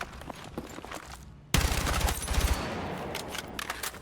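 M4A1 carbine fire in the video game Battlefield 6: loud, close rapid bursts of automatic shots, the heaviest volley starting abruptly partway through, with lighter clicks and rattles between them.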